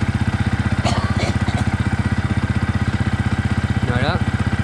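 A Yamaha YZF-R 125 motorcycle idles at about 1900 rpm with a loud, close, evenly pulsing engine throb, while a voice speaks briefly over it.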